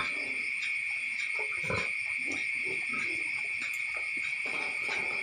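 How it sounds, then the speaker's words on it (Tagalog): Pigs in a pen at evening grunt and snort at close range against a steady shrill chorus of crickets or other night insects, with no voices. "Ito ngayon po, mga kasama niya dito baboy."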